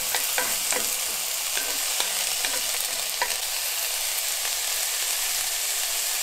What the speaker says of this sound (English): I'm gonna saute a few of these